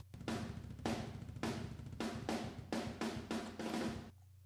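Near room microphone track of sampled metal kick and snare drums, played alone: rapid low kick thumps under repeated washy snare hits with a roomy, slightly distant ambience, then a brief low tail.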